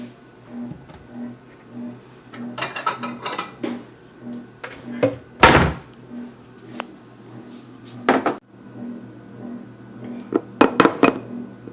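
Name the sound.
bowl being taken out among dishes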